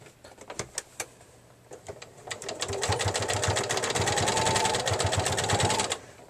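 Sewing machine stitching a canvas neck pouch, a few slow single stitches at first, then a steady fast run of rhythmic needle clatter close by before stopping.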